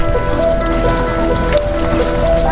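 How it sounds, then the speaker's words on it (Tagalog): Heavy rain pours down steadily on a mountaintop campsite, a dense, loud hiss of drops drumming on a surface with no pauses. "bigla na lang lumakas yung ulan"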